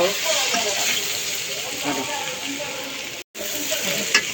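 Bitter gourd and jackfruit seeds fry in a pan with a steady, close hiss and sizzle that runs almost without a break, cut off briefly near the end.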